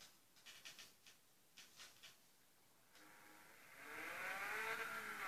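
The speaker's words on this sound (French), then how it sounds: "Très beau moteur, très très fort." A few quick engine blips, then an Alpine car engine revs up into a sustained, rising whine, moderately distant, at a Sébastien Loeb motorsport event.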